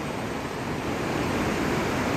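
The Midim river in Lamjung rushes past near a hydropower site, a loud, dense, unbroken roar of white water with no voices.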